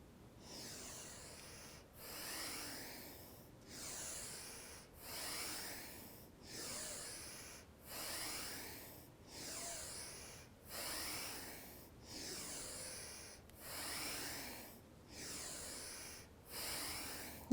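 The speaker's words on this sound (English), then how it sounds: "Bring in more breath." Slow, deep yoga breaths come in a steady cycle of about nine or ten full inhales and exhales, close and airy with a slight rasp, heard alone without talk.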